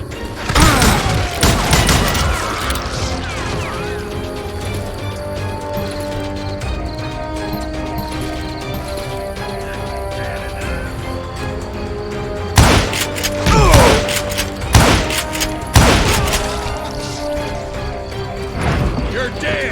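Gunfire in the Call of Juarez Gunslinger video game crackles in rapid bursts at the start and again later, loud and close, with voices shouting over it and steady music underneath.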